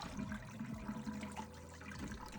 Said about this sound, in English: I'm going to turn the water down a little bit, and I'm going to allow it to just rinse the rice